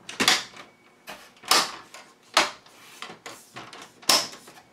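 A Sony SLV-740HF VCR's plastic front panel and cassette door being fitted back on during repair: five or six sharp plastic clicks and knocks, close by and spaced irregularly, with quiet gaps between them.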